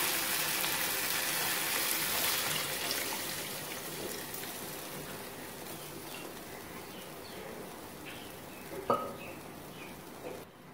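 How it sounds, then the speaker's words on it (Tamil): Steady bubbling and sizzling of rasam boiling in a pot, a dense crackling hiss with a faint clink near the end. "இப்போ பாருங்க நமக்கு நல்லா கொதிக்குது பாருங்க ரசம்"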